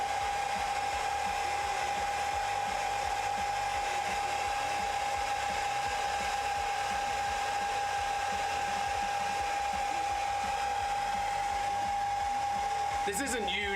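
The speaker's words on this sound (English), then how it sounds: "I'm just using my wife's hairdryer to dry this Warhammer Mini." A hairdryer drying a painted Warhammer Space Marine miniature runs as a steady whirring drone with a constant whine, fairly quiet and unbroken throughout, with a faint clatter near the end.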